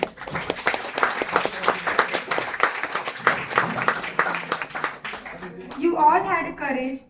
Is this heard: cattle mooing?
no